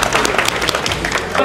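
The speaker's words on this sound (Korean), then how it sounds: "박수 한 번." A short burst of applause from a small crowd at a pull-up challenge, steady clapping throughout with voices mixed in.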